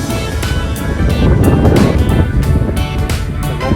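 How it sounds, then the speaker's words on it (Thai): Strong wind roars steadily across the microphone during a boat trip. The dense, rumbling buffeting stays loud and close for the whole stretch. "แรงครับ ลมแรงมากเลย"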